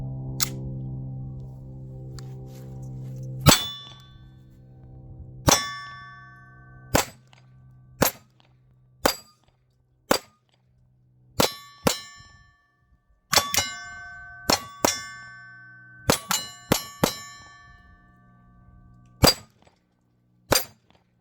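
A Canik TP9DA pistol fires a full magazine at a range. Sharp, loud, isolated shots ring out one after another at uneven intervals, some in quick pairs, and each ends in a metallic ringing decay.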